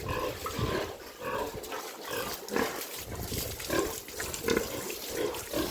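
Pigs grunt steadily in a sunny yard, a close, continuous run of low snorts and grunts from several animals without talk.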